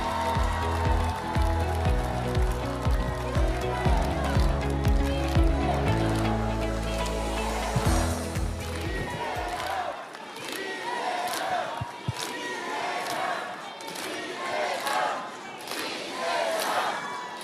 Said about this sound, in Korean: 여러분의 큰 박수가 필요하겠죠?